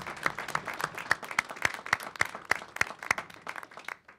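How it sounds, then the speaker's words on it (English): Applause breaks out for students at a District 155 school board meeting: a small group claps in a steady rhythm with a few scattered louder claps, fading out toward the end. "I just think it's really worth giving our students a big round of applause."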